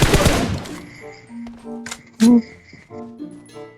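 Gunfire in the mobile battle royale PUBG Mobile: a loud burst of rapid automatic shots at the start, then scattered sharper cracks and short bursts amid quieter game noise.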